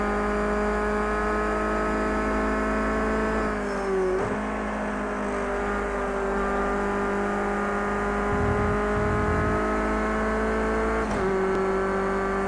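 Race cars in the Project CARS 2 racing game drone at high revs through a crowded qualifying session, engine pitch dipping and climbing with gear shifts, loud and continuous without talk.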